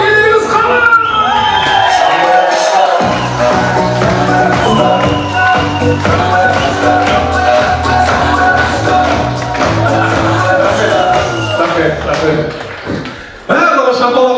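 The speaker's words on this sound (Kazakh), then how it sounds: "Барлығы шапалақ ұрып отырсыз" Guests at a 40th birthday celebration clap and cheer loudly, a dense crowd roar with whoops and applause that runs on steadily and cuts off abruptly near the end, with musical tones underneath.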